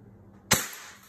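A Beretta M92A1 CO2 full-metal BB pistol fires one sharp, loud crack out of near silence, followed by a brief fading tail.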